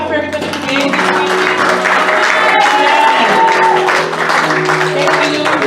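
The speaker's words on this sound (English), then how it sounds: "Can we get another hand clap for everybody who gave this week?" A church youth service audience claps and cheers together for several seconds, a dense wash of hands under voices and background music.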